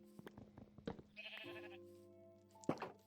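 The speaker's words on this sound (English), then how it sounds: "Alright, pink sheep, you are free." Minecraft sheep bleating in a video game, several short wavering bleats in sequence, close and clear, with a final louder bleat near the end.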